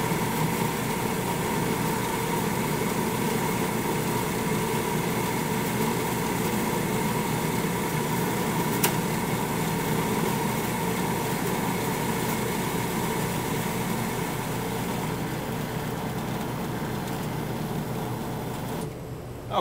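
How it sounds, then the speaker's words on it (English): An electric drip-style coffee grinder runs steadily while grinding regular coffee beans, a dense, continuous whirring hum held at even loudness for about twenty seconds, then cutting off at the end, with no talking. "Push this, and then hit the grind button."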